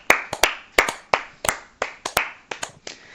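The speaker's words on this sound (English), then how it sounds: "should give him a round of applause" A round of applause for a performer, heard as about a dozen separate sharp hand claps from a small group, unevenly spaced and slightly overlapping, close and fairly loud with no talking over them.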